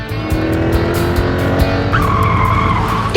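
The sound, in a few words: car attempting to skid at 65 km/h on wet road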